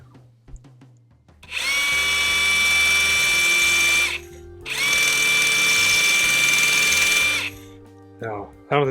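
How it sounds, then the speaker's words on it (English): A power drill whines loudly in two long bursts with a short pause between, steady high-pitched motor tone, close by, drilling out a tapered hole on a Sonoma S10 minitruck clutch job, with brief faint noises before and after. "Might as well try drilling it out."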